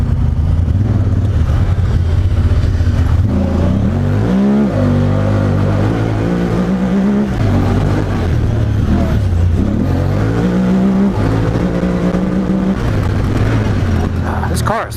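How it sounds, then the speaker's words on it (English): A Honda Talon side-by-side powers up out of a steep washout, its engine loud and close, revving hard with rising pitch and shifting load, while people talk excitedly over it. "We're gonna drop straight down and just power up the other side out of it."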